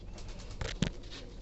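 Pigeons in a coop with their young give a few low coos close by, with a couple of louder bursts near the middle against a soft background, and no one speaking.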